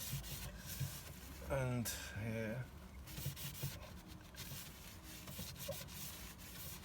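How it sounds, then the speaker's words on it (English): Cloth rubbing quick detailer over grimy plastic trim mouldings on a BMW E36 318tds M Sport, soft close scrubbing strokes in bursts, with a brief spoken word. "we're going to clean off the gunk with a quick detailer, as you do."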